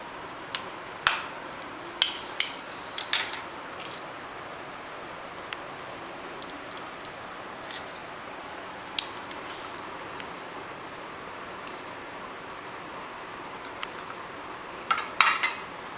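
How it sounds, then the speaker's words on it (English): Egg cracked and beaten in a bowl for an egg pizza dosa, heard as a scatter of sharp clinks and taps at uneven intervals, with a brief cluster at the start and another near the end. "So let's break the egg now."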